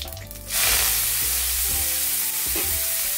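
Fenugreek greens hit hot oil tempered with cumin, bursting into a loud, sudden sizzle after a brief clatter, then settling into a sustained hiss with occasional scraping stirs and low kitchen hum beneath.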